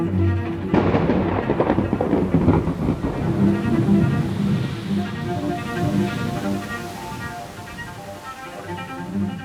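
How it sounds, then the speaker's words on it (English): Thunder from a building storm rolls in a deep, broad rumble that swells loudly and then slowly fades, with no voices. "The storm was brewing, so there was rumbling, there was lightning"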